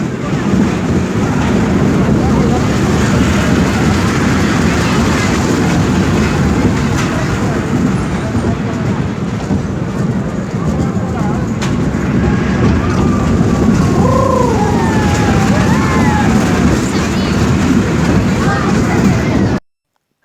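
Loud, continuous rumbling roar of a moving train, with indistinct voices of people mixed into the din.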